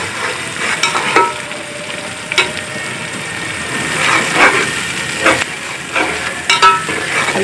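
A spice mix sizzles steadily in a pan with browned onions and green chillies, close and loud, broken by scraping stirs for a chana pulao.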